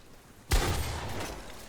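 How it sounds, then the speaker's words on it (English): Gunfire in a shooter video game, a sudden loud burst of shots that trails off into a sustained noisy rumble. "I shot his teammate."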